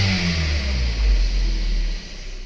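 Kia Soul engine revving and holding near 2500 rpm during an oil pressure test, a steady loud mid-pitched drone with no talk, easing slightly near the end.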